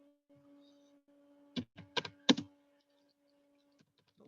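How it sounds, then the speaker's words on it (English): Several quick clustered keystrokes on a computer keyboard, close and fairly faint, over a steady low electrical hum, with quiet pauses before and after. "Let me type it here."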